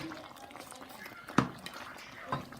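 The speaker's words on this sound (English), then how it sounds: "Now the goat meat is boiling." Goat meat boiling in a pot of water while okra is being cooked, giving a steady bubbling hiss with a couple of sharper pops from the liquid.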